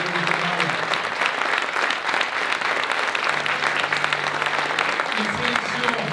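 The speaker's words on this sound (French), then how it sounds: "Faites-vous applaudir" Sustained applause from the audience at a florists' competition prize ceremony, dense and steady throughout, with a voice faintly heard beneath it.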